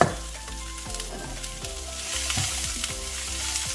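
Sliced cabbage, celery, green bell pepper and mint sizzle steadily in a hot pan while being stirred, with close, continuous frying hiss and occasional scraping knocks of the utensil.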